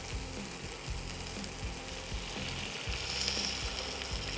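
Water is poured into hot oil and spices for a Bengali mustard chicken curry with raw mango, giving a steady, fairly quiet sizzle and bubbling in the pan.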